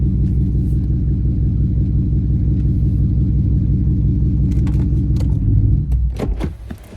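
A catless R/T car at 185k miles idles with a loud, deep, pulsing exhaust rumble while being parked, cutting off near the end, followed by a few clicks and taps.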